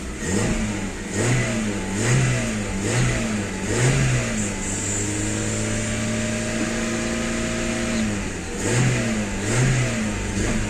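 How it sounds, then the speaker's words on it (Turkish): A car engine, a petrol model converted to run on LPG, idles and revs repeatedly in rising and falling bursts, then settles into a steadier drone, loud and close with no talk. "Evet, araba çalıştı."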